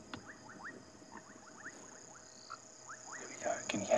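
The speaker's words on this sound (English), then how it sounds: "So as it gets darker, a few more frog species coming in." Tree frogs or foam nest frogs calling at dusk in the Sabi Sand bush, a series of quick repeated chirping notes at moderate distance over a low background hum, with faint noises near the end.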